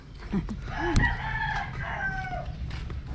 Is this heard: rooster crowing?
yes